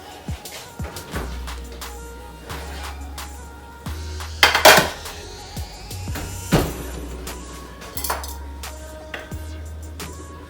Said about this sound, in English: Let me get the wings out the oven.